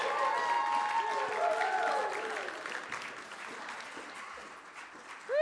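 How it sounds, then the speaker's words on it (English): Audience applause greets a speaker taking the stage, a full burst of clapping that gradually thins and fades, with some cheering voices and a whoop rising near the end. "Let's have a big round of applause for Rachelle Indra"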